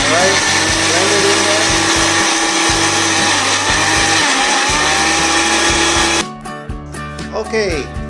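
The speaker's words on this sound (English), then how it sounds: "now you will blend your cubes, all right? These are blueberry infused sugarcane cubes" A small non-pulsing countertop blender crushes blueberry-infused sugarcane ice cubes, running loud and continuous for about six seconds before cutting out into a quieter tail.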